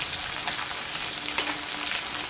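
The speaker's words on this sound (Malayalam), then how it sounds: "കുറച്ച് നല്ല നാടൻ മുളക് ഇട്ട് കൊടുക്കുന്നു." Local green chillies fry in hot oil with a dense, steady hiss that fills the whole stretch, close and even, with faint spits and a soft stir partway through. No one speaks.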